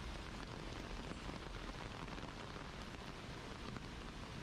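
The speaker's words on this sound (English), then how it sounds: "the rain's a bit too loud" Steady rain falling outdoors on an outing, a dense, even hiss of drops on surfaces that holds at a constant level throughout, with no voices over it.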